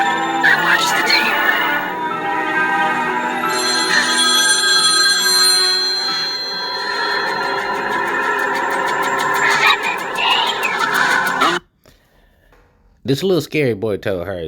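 A telephone rings in a scene from the horror film The Ring, a repeated bell-like tone over music and dialogue, loud and close, before cutting to near silence and then a brief burst of sound.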